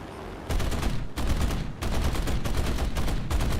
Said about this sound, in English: there's a lot of machine gun fire going after me